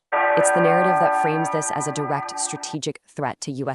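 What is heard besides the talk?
alarm bell sound effect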